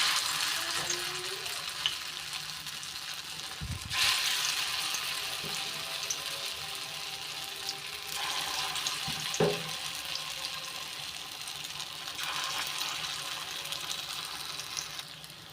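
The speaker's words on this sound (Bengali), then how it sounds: "আমি এবার পকোড়ি গেলে একটা একটা করে ছেড়ে দেবো।" Soybean pakoras frying in hot oil in a wok give a steady, close hiss and sizzle with a few clinks and splashes as pieces drop in; no talk is heard.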